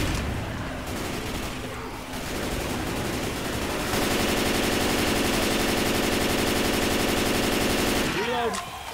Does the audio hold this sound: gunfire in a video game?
yes